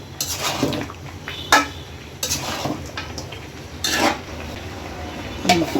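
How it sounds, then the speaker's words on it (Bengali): Chicken and pumpkin being stir-fried together in a pan for a chicken curry, with a metal spatula repeatedly scraping and clattering against the pan in short, irregular bursts over a faint background. "এখন মাংসের সাথে কুমড়ো আবার ভালো করে কষাই নিই।"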